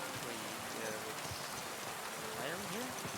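Rain in Kingdom Come: Deliverance II falls as a faint, steady hiss of drops, with a voice talking briefly over it.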